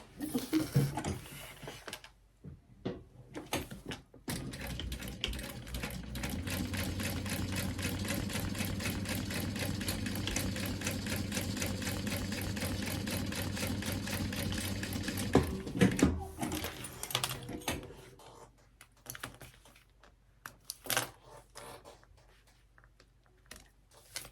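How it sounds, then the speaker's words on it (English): A sewing machine stitches down clear vinyl on a lanyard pouch, running steadily for about eleven seconds with a fast, even needle rhythm, framed by brief handling noises before and after. "I never sewed it down. That's okay. We'll sew it down."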